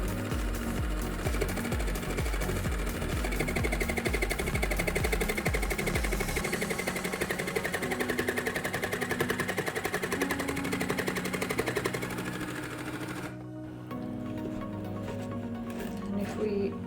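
A toy sewing machine stitching a unicorn cushion runs in a loud, rapid mechanical chatter for about thirteen seconds, then stops abruptly, leaving quieter handling noise behind.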